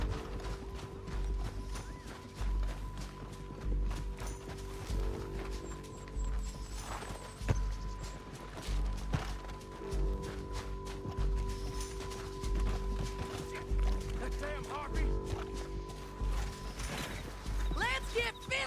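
Horses' hooves clip-clop steadily in Red Dead Redemption 2, mixed with game mechanisms, creaks and an occasional whinny over a constant background drone, fairly close and continuous.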